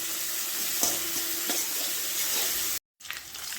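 Dried red chillies, green chillies and plenty of whole mustard seeds fry in oil with a loud, continuous close hiss, a couple of faint utensil taps, then a sudden brief cut to silence before the sizzle resumes.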